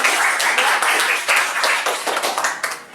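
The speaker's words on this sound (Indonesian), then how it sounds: "Aplaus buat kelompok" A classroom group receives a burst of hand clapping from many people, steady and fairly close for about three seconds, thinning out toward the end.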